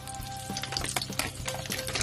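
Pork frying in a pan for sweet and sour pork, a close, steady crackling sizzle with light stirring scrapes.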